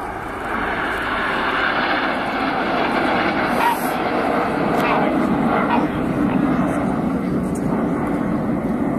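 Red Arrows jets roaring past in close formation trailing white smoke, a loud, sustained broadband rumble that holds steady for the whole stretch with a brief swell near the middle.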